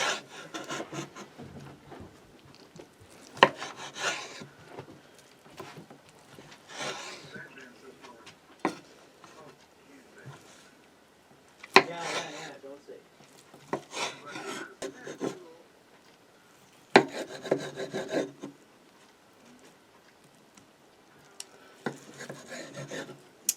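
A knife saws through leftover pork wraps filled with cheese and pasta, giving repeated rasping, scraping strokes in separate bursts with quieter gaps between.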